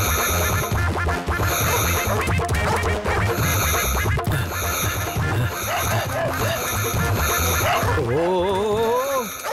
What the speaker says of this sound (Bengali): এই কুকুরগুলো তো বাট্টুকে তাড়া করেছে